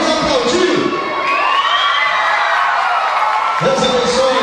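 A children's audience at a church Vacation Bible School program cheers and shouts excitedly, a dense, lively crowd noise with high young voices that holds steady throughout.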